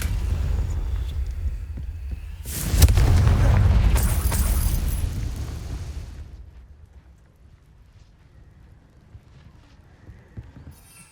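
A Confringo fire blast spell from Hogwarts Legacy booms out as a loud, rumbling explosion lasting about three seconds, then fades into quieter game ambience.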